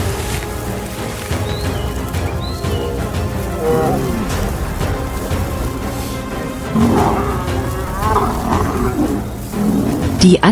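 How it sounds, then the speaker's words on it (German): Lions roar and snarl while attacking a buffalo on the Botswana savanna, layered growls and roars running throughout, loud and close, with heavier bursts near the end. "Die anderen Löwen umringten ihn sofort."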